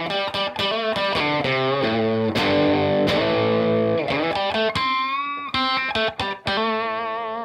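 Heavily distorted Fender electric guitar plays chords and bending notes, loud and up close, with sharp attacks and sustained ringing tones.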